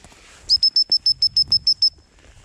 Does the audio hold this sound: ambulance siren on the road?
no